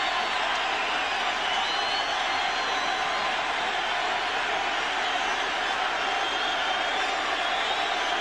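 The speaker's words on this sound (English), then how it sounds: "You can hear the crowd in the background." Steady crowd roar filling a baseball stadium during a 1998 Yankees–Orioles game, a broad continuous wash of voices and cheering heard from a distance with no single voice standing out.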